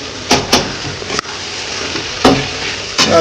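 Chicken kosha stirred and sautéing in a pan with chili powder, a steady close sizzle of oil broken by several sharp scraping strokes of the spoon across the pan, with no talking.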